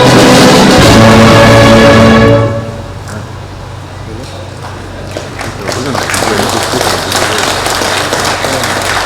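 Applause for the Kenyan president at a bill signing at State House starts loud with music tones, then drops after about two seconds to a lower murmur of crowd noise that lasts to the end.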